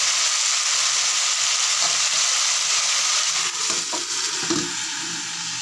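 Mixed vegetables fry in a pan, giving a continuous close sizzle with stirring. A few utensil knocks and clatters come near the end, and no one speaks.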